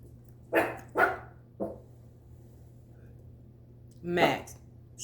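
A dog barks four times indoors, three quick barks close together, then a pause before one longer bark, fairly near over a steady low hum.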